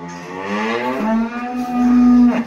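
Pregnant dairy cow on a farm gives one long, close, loud moo lasting a couple of seconds, rising and holding before tailing off.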